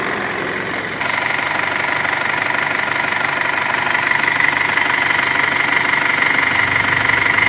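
The engine of a used car under inspection idles in a loud, steady, even rumble with a faint rhythmic ticking, starting abruptly and running unchanged throughout.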